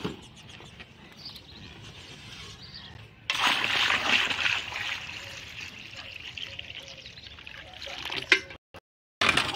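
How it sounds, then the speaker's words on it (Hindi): Water suddenly gushes out and pours loudly into buckets outdoors on a farm after a quieter stretch, splashing and sloshing steadily before cutting off briefly near the end. "पानी निकला है।"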